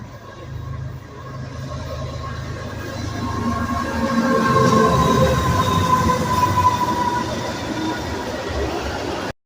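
A train rumbles past nearby, a steady low roar with metallic screeching tones that swells in the middle and then cuts off abruptly.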